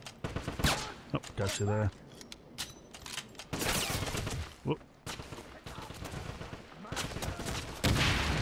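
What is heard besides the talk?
gunshots from a gun in Wolfenstein video game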